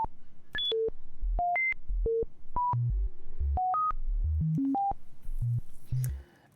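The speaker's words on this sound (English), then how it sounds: "Let's get an LFO random voltage and hear what that sounds like." Random voltage from an LFO in the Voltage Modular synthesizer steps a synth tone through a string of short beeps at jumping, unpredictable pitches in an even, quick rhythm. The sound is clean and close, with no voices.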